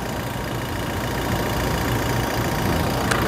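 Diesel engine of a 2019 Toyota Fortuner VRZ idling up close, a steady rough, slightly knocking rumble that holds even throughout, with no voices over it.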